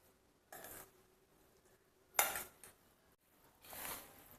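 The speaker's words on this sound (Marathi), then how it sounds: "मी चमच्याने आधी मिक्स केलं पण लोणचं आपलं जास्त आहे ना चमच्याने काही होत नव्हतं" A spoon scrapes and clinks against a pot while mixing a large batch of mango pickle, three short separate bursts with quiet pauses between.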